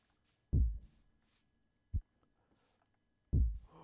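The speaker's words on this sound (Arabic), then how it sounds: "اوه نبض قلب" A heartbeat from a monster mob in Minecraft thuds three times, spaced apart, each a deep low throb standing alone against near silence.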